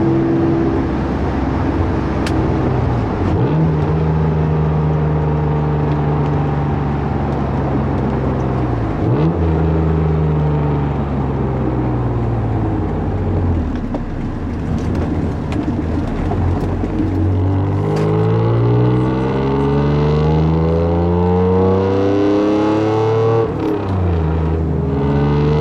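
An Acura NSX driven from the cabin, its raw exhaust loud and constant as the engine climbs and drops through repeated gear shifts and revs, with no talk over it.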